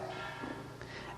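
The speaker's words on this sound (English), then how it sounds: "What is that sound now, right now? The bell is going." A metal bell rings to signal lunch, a steady sustained ringing tone that fills the space at moderate distance with no talk over it.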